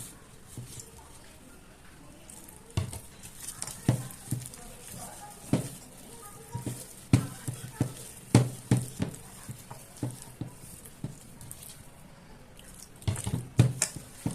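Water poured in small amounts into a bowl while a batter is whisked by hand, giving repeated sharp clinks and taps of the whisk against the bowl in an irregular rhythm, close and fairly quiet.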